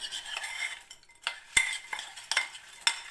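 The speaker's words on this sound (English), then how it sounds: "I'm just going to mix that into the butter" A spoon stirs ingredients into melted butter in a bowl, giving soft scraping swirls punctuated by several light clinks of metal against the dish, close up and quiet, with no talk.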